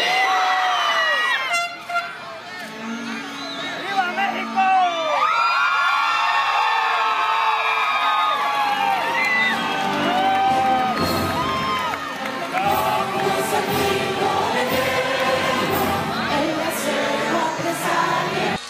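A crowd at a Mexican independence celebration abroad cheers, whoops and shouts almost without pause, with horns honking and whistling voices rising and falling in a loud, dense roar.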